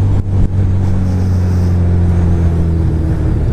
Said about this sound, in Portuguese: e ouvir o ronco do escapamento.